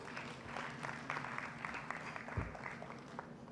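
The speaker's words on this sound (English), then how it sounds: "Ladies and gentlemen, round of applause." Audience applause at an economic growth forum, a steady patter of clapping from a seated crowd at moderate, even loudness with a faint voice underneath.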